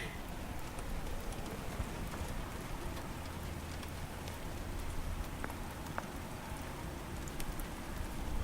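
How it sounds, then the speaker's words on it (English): Heavy rain pours down just outside an open doorway, a loud, continuous wash of drumming drops and spatter on hard surfaces that swells slightly toward the end, with no talking. "It's really raining."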